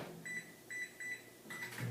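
A microwave oven runs quietly with a low steady hum, warming a breakfast item uncovered for one minute, with faint repeating tonal pulses over the drone.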